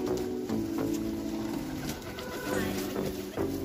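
Madras racer pigeons of the black-grain line coo steadily at close range, low rolling calls repeating over a busy indoor background with faint voices.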